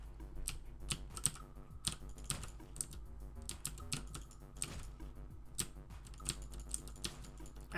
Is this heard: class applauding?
no